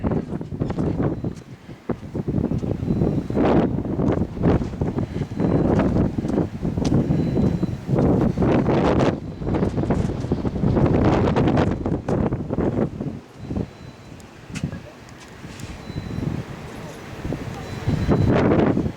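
Strong winter wind on the summit of Mount Kearsarge, New Hampshire, buffets the microphone in loud, roaring gusts that rise and drop repeatedly, with only brief lulls between blasts.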